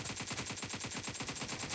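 Rapid automatic gunfire rattles in a steady, dense stream of shots during a PUBG Mobile team deathmatch, moderately loud and continuous with no talk.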